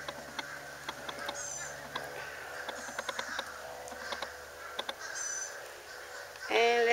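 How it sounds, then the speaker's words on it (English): Harsh calls from several crows ring out overhead, scattered and moderately distant, with a few louder cries near the end. "The crows, the crows. There they come again."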